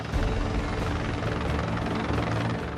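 A rescue helicopter's rotor thunders steadily and loudly overhead while it hoists a victim and paramedic on a line about 185 feet below, a continuous close roar without talk.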